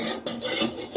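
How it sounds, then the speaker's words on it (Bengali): A spoon stirring rice flour paste in a pot on the stove, continuous scraping and rubbing strokes, close and steady with no talking. "এই জন্য আমি এটাকে অনবরত নাড়তে থাকবো।"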